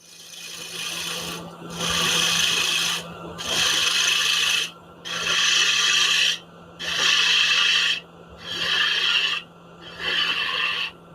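Bowl gouge roughing away face-grain wood on a lathe, a loud rasping, hissing cut in six even bursts of about a second each, separated by short pauses over a steady low motor hum, with no talking.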